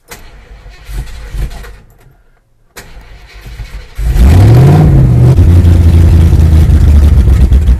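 A classic Ford wagon's engine in an RV park cranking briefly, pausing, then catching with a loud near roar that rises and settles into a rough, heavy idle.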